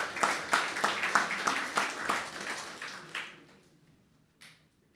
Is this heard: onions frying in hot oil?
no